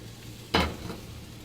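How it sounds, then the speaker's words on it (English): Hamburger meat hits a hot frying pan with a single short burst of sizzle that settles into a faint hiss, with no talking. "And cook it in a frying pan."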